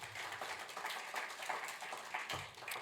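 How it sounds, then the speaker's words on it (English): Applause from the audience at a university innovation showcase after a startup pitch, a faint, brisk patter of scattered hand claps heard from a distance. "Round of applause for Pact to Earth."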